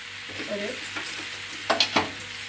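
Chopped tomato goes into a pan of frying jackfruit masala: a soft sizzle, then a few sharp scraping clatters of a spoon toward the end.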